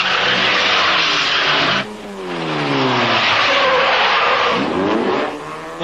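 Cars race in an illegal street race in Rio de Janeiro in 1991. Loud engines rev and accelerate close by, with long tire squeals and skids that rise and fall as the cars sweep past.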